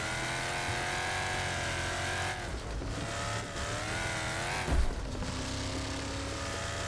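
Race car engine roaring steadily throughout a Wreckfest match, with a brief thump or impact near the end and a constant loud drone.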